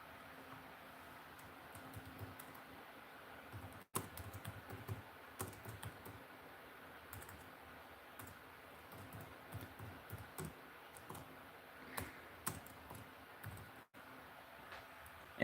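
Fingers typing on a computer keyboard, irregular bursts of soft clicking keystrokes with short pauses, close and fairly quiet over a faint steady room hum.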